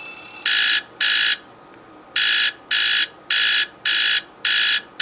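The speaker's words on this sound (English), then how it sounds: "that's gotta be the most annoying alarm" Samsung phone alarm tone sounding as loud, harsh electronic buzzing bursts, first a quick pair and then a steady run of evenly spaced pulses, close and alone over faint background hiss.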